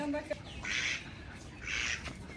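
A duck kept among a handful of village hens gives two raspy quacks in quick succession, close and fairly loud, over a background of faint outdoor noise and distant voices.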